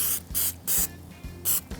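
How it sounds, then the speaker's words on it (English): Spray butter hisses onto BBQ chicken lollipops bound for the smoker, with four short, loud, close bursts separated by brief pauses and no talking. "a little bit of spray butter"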